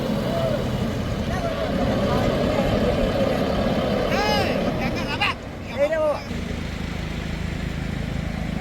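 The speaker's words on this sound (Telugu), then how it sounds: "బోట్లు నీళ్ళు ఇలా లాక్కెళ్తారు ట్రాక్టర్తో" Tractor engine dragging fishing boats across the beach into the sea at Chirala, a steady loud rumble with broadband surf-like noise throughout, brief whining tones and a short dip near the end, while people talk over it.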